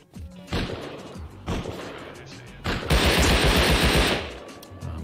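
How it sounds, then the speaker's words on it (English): Python revolver gunfire in the survival game Rust: a few sharp separate shots, then a dense roaring burst of fire lasting about a second, loud and close. "I'm getting shot at by a python"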